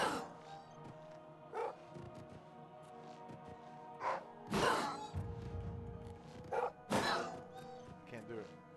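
A dog in Oblivion Remastered gives several sharp, separate barks spaced a second or two apart, with a few louder impact-like bursts and someone talking in between.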